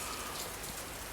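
Steady rain falls in an even, hissing wash, continuous and close, with no voices or other sounds over it.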